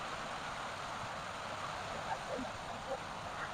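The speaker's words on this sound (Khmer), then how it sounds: "ភ្លៀងខ្លាំងបងប្អូនភ្លៀង" Heavy rain pours down in a steady, unbroken hiss that fills the whole stretch at an even, moderate level, with no voices over it.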